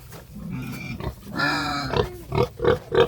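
Pigs on a small farm grunt and squeal close by, a long harsh squeal followed by a run of short, loud rhythmic grunts, with no talking.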